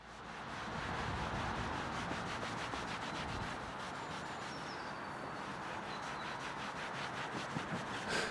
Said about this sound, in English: Or it can be worked into the grain of the coating every once in a while with a soft bristled detailing brush to lift out any deeper dirt